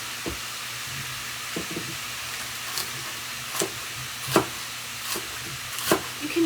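Ground beef sizzles in a pan with a steady soft hiss, broken by several sharp scraping clicks of a utensil against the pan at irregular intervals, close and without talking.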